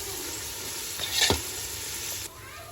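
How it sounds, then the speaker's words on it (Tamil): Onions sautéing in a pan for prawn biryani, a constant close sizzle and hiss, with one brief louder scrape of a spoon midway, and no voices. "வெங்காயம் நல்லா வதங்குவோம்"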